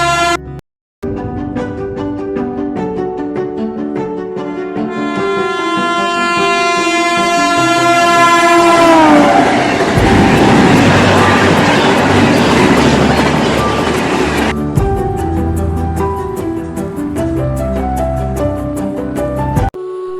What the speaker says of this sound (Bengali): দেখছি ট্রেন গাড়ি আসতে